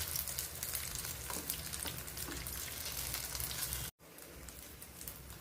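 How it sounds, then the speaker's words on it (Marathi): Homemade vegetable potato tikki fry in hot oil with a soft, steady crackling sizzle, close but quiet, briefly cut off near the end before resuming. "टिक्कीला चांगलं फ्राय करून घेते मी इथे."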